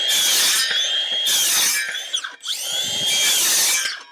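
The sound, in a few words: sawing wood for a garden room frame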